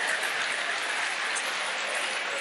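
Audience at a live Rajasthani comedy storytelling show breaking into steady, dense clapping that fills the short stretch at an even, fairly loud level, with no voices over it.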